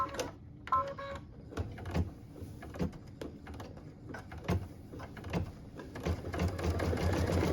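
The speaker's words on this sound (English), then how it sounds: "we are stitching this next bit in white" Embroidery on a sewing machine stitching a Christmas ornament in white thread, a close, continuous run with rapid ticking needle strikes and periodic clicks and thumps.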